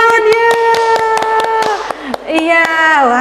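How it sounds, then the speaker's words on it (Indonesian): Steady, rhythmic hand claps tap out a brisk beat at a children's Sunday school service, running under a sustained voice that holds long tones. "Kita kasih tepuk tangan ya"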